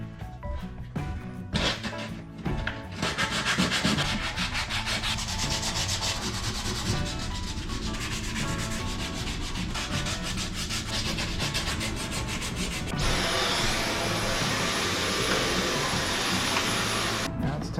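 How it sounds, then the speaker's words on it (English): Sandpaper is rubbed by hand over the inside of kitchen cabinets, a steady close scratchy rasp of repeated strokes that carries on almost without pause, after a few short opening scrapes. "I'm gonna use manual sandpaper because I don't want to get dust all over everything."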